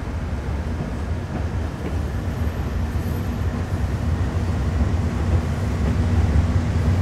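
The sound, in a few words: train locomotive running in the video game Train Sim World 5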